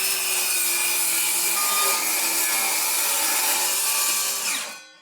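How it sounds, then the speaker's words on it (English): Plywood being cut with a saw while building a workbench: a steady, loud rasping cut that runs unbroken for nearly five seconds, then fades quickly as the blade finishes. "I could now cut some of that lovely plywood to fix to the top."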